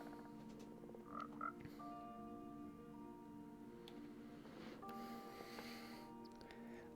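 Minecraft 1.19 frogs make soft croaking noises in a quiet game scene: faint, scattered croaks and small chirps over low tones, with no talk.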